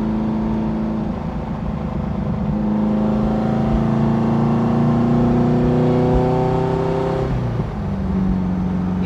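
A Beck Porsche 550 Spyder replica's mid-mounted engine revs while driving, with a strong, buzzy tone climbing steadily in pitch, then briefly dropping as the revs fall, close and loud throughout.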